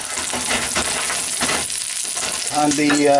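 A Monte Cristo sandwich sizzles in a hot pan as it is stood on its edges to cook the sides, a steady crackling fry that swells louder near the end as more oil spatters.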